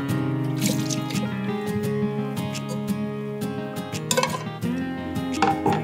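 Water splashes and trickles as a cooking pot is rinsed out before cooking, with irregular drips, sloshes and clinks of the pot heard close up against a tonal background.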